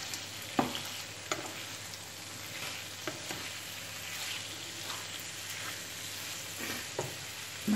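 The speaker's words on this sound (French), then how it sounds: "Laisser cuire en remuant de temps en temps jusqu'à ce que ça doré, les courgettes." Courgettes fry in a pan, stirred now and then until golden: a steady close sizzle runs throughout, broken by several sharp scraping stirs spaced a second or so apart, with no talking.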